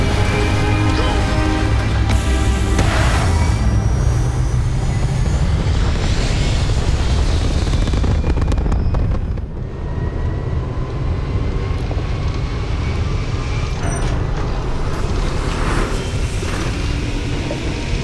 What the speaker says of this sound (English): Ready for takeoff in 3, 2,